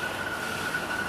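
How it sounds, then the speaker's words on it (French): A small driverless train on rubber tyres rolls past as a steady, even rumble with a thin high whine riding over it, close by and continuous, no voices. "regarde, le train, il va tourner de bord ici, là"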